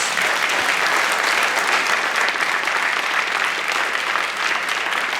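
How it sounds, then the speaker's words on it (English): A live studio audience at a televised political discussion program applauds steadily and loudly, a dense, even wash of clapping that holds for the full length without talk over it. "You can applaud because you're a live audience."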